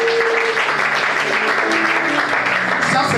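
A church congregation applauding and cheering, dense sustained clapping with raised voices and shouts filling the room for the whole stretch.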